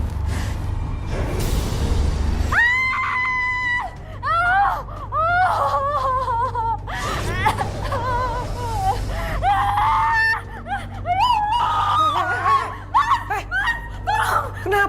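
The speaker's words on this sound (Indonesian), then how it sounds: "Kenapa sih teriak-teriak?" A woman cries out in fright in an Indonesian supernatural drama scene: a long run of loud, high, wavering screams and wails that rise and break again and again, over a low steady hum.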